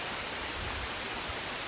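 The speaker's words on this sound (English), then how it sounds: "first step is to come outside in the pouring rain" Heavy rain pouring outdoors as a dense, even hiss that stays constant and loud throughout, with no other sounds standing out.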